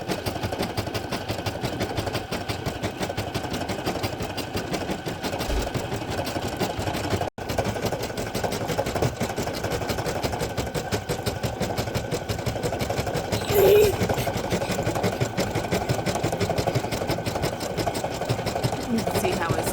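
A Brother PE800 embroidery machine stitches a black outline onto a sweatshirt, a steady, fast, continuous mechanical whir with one brief click partway through, running throughout at a fairly loud, close level.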